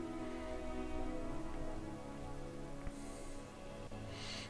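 Steady rain patters across the scene in the video game Skyrim, a soft continuous hiss with distant ambient game sounds underneath and no talk.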